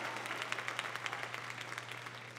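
A church congregation claps during a sermon, producing a steady patter of many overlapping claps at moderate distance over low room hum.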